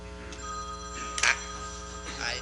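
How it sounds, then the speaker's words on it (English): A mobile phone rings out during a county public meeting, a repeating melodic ringtone with bright chiming bursts that carries clearly through the room, with no talk over it. "I thought I shut my phone off."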